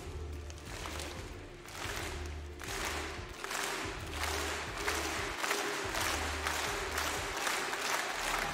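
An esports arena crowd at the Dreamhack Marseille CS:GO grand final between Astralis and NaVi roars and claps, with loud, sustained cheering and rhythmic chant-like clapping swelling in regular bursts throughout.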